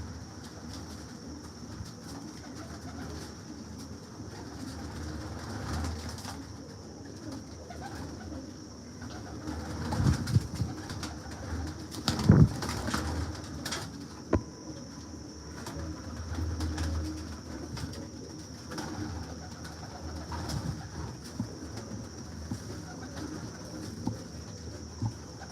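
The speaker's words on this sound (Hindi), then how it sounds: "ये सारे कबूतर फॉर सेल हैं जी" Pigeons of several breeds kept for sale, cooing softly and intermittently in their enclosure amid low, steady background rumble, with a few brief louder flutters or knocks near the middle and no voices.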